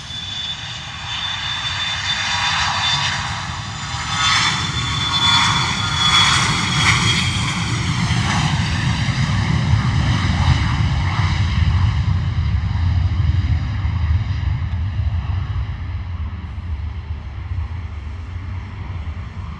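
An airplane takes off at London Luton Airport in wet, windy weather, its engines building into a loud, sustained roar that peaks mid-way and then slowly fades as the aircraft climbs away.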